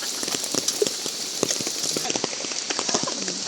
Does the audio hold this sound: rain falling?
yes